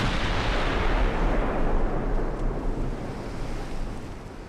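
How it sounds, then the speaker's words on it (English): Enemy warships firing in Ultimate Admiral Dreadnoughts, heard as a dense, steady roar of distant naval gunfire blended with sea wash, loud and continuous before easing slightly toward the end, with no talking. "Starting to shoot at us again."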